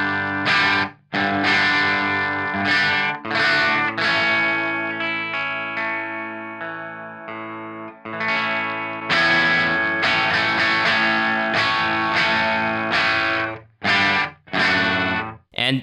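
Electric guitar played through an amp cranked to about 9 with no headroom left, loud sustained chords crunching into distortion and breakup, strummed in bursts with brief gaps between phrases, no talking.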